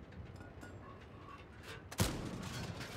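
A single heavy tank cannon shot in World of Tanks erupts partway through, following a quiet stretch of low rumbling background, and its loud booming tail lingers to the end.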